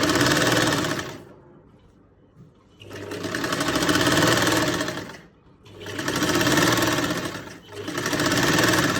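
A sewing machine top-stitches a salwar waistband in three bursts of close, loud, rapid mechanical whirring, with short pauses between runs.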